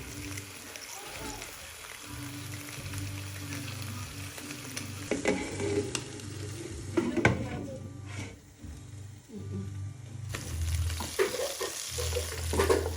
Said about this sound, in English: I'm going to be frying it, leaving it on the pan to fry until it's all golden brown